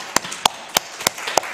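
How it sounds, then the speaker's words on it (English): Scattered, sparse claps from a small conference audience honoring the panelists at a university scientific conference, five or six distinct sharp hand claps spaced irregularly, fairly close and not building into full applause. "let's give some applause to the panelists"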